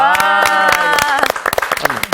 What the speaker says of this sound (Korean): 우리도 박수 하나 합시다